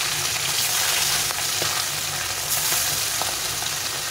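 Bata fish pieces fry in oil in a hot kadai, giving a continuous, close and fairly loud sizzle and crackle with small pops and no voices.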